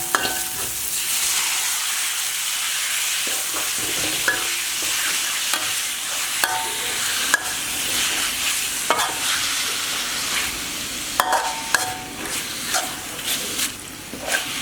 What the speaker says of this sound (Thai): หลังจากนั้นก็นำกระดูกที่โครงเราตามลงไปผัดนะครับ